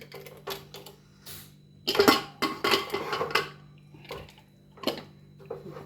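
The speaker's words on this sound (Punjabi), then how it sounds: "ਹੁਣ ਆਪਾਂ ਢੱਕਣ ਖੋਲਦੇ ਆ ਪ੍ਰੈਸ਼ਰ ਇਹਦਾ ਨਿਕਲ ਗਿਆ" Metal clatter and clinks as the lid comes off a pressure cooker after steam release while cooking stuffed tinda curry, irregular knocks and scrapes of pot and lid, close, with a faint steady hum underneath.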